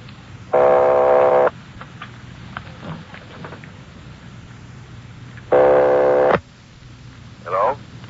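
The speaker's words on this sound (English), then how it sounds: "They're ringing the number, Sergeant." Two long buzzing telephone rings sound about five seconds apart, with faint room noise and shuffling in between.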